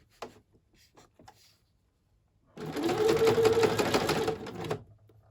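A basic Hobbycraft sewing machine runs steadily for about three seconds after a few faint taps and handling noises, its close, even mechanical whir holding alone before stopping abruptly.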